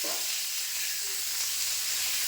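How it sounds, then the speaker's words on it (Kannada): Raw green tomatoes fry in a spoonful of hot oil in a pan, giving a loud, steady, close sizzle that runs unbroken throughout with no voices. "ಎಣ್ಣೆ ಹಾಕೊಂಡ ಚೆನ್ನಾಗಿ ಒಂದು 5 ನಿಮಿಷ ಇವನ್ನ ಹುರ್ಕೋಬೇಕು ನೋಡ್ರಿ."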